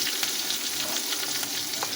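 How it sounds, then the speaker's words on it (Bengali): Black cumin seeds and green chilies frying in oil, the first step of a hilsa oil-and-chili curry: a steady, close hiss of sizzling oil, with light crackles and pops and some faint stirring. "কালো জিরে আর কাঁচা লঙ্কা ভাজা হয়ে গেল"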